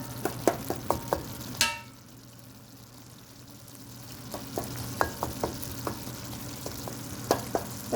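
Goat brain masala is fried in oil over high flame while a spoon scrapes and stirs it in the pan. Sharp metallic scrapes come in clusters over a soft steady sizzle, with a quiet gap midway.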